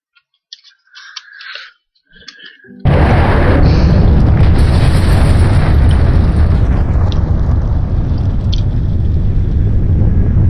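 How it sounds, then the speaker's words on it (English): After a few faint clicks, a missile explosion in the game Voltz erupts loudly and rolls on as a sustained, roaring rumble that slowly fades. "And makes a loud explosion."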